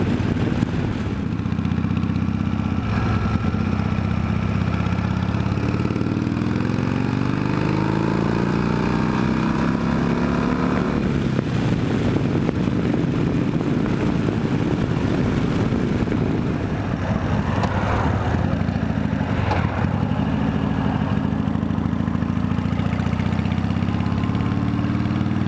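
Harley-Davidson FXRS-SP motorcycle engine idling up close, a loud, steady low rumble with a lumpy, uneven beat and some mechanical clatter, running alone for the whole stretch.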